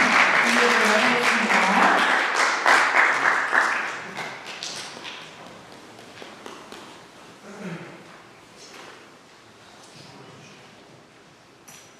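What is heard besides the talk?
audience applause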